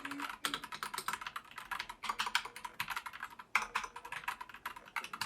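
Rapid typing on a RoyaleAxe R100 mechanical keyboard with G Pro Yellow linear switches, a quick clattering stream of soft keystrokes in bursts with brief pauses, close and quiet, no talking.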